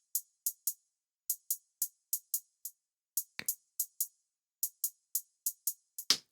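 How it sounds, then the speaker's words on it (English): Crisp hi-hats tick out a basic drill groove in FL Studio, short bright hits in sliding, uneven clusters with occasional low kick-like thumps, dry and alone. "I have one basic hi-hat carrying most of the weight"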